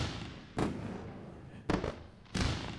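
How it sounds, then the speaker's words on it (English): Fireworks sound effect played on a day-trading livestream: three separate booming bursts, each a sharp broadband crack fading into a crackling tail, fairly loud over a low background. "Where are the fireworks?"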